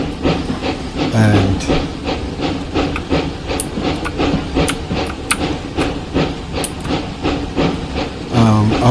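A narrow gauge steam locomotive in the Train Simulator Classic game on the Clear Creek line hisses loudly, with rhythmic chuffing beats and metallic clanks, close and continuous, while someone briefly talks over it.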